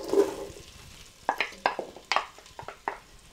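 Onions frying in melted butter in a pot over medium heat for chowder, a soft sizzle under a series of sharp spoon-and-pan clinks and scrapes as they are pushed around.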